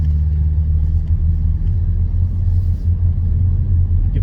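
C8 Corvette engine pulling under throttle on a track, a deep loud rumble that holds steady and close for a few seconds with no voices over it.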